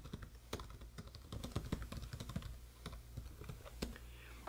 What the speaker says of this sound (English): So I'm gonna go ahead and type it here.